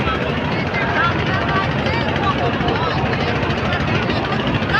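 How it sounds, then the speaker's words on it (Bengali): A large passenger launch ferry running from Dhaka to Kaila gives a loud, steady engine drone with broadband rushing noise throughout, while someone talks over it. "এই লঞ্চ এত বড় লঞ্চ,"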